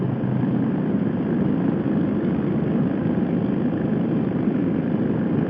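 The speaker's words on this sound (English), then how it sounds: "Harleys are the most distinctive sound." A Harley-Davidson motorcycle engine runs steadily, a loud continuous low rumble that stays even throughout without revving up or down.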